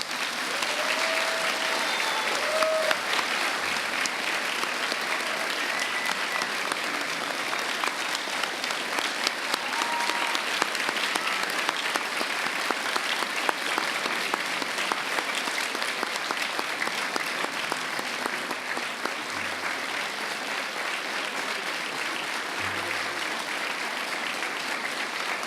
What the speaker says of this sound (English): Now let's hear applause.